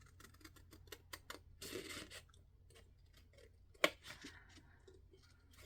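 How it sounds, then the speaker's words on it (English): Scissors cut paper for a Carta Bella Honeybee craft album, making quiet, close snips and crisp rustles in a loose, irregular rhythm with one sharper snap partway through, against a faint background hum. "I'm just going to cut that out."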